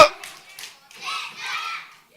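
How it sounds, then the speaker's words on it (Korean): Children at a Sunday school service give a few sharp claps together, followed by a chorus of young voices. "집중의 박수!"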